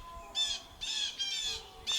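Birds give harsh, crow-like squawking calls around an abandoned ghost town in Covert, Kansas, as four separate caws spaced apart against a quiet background.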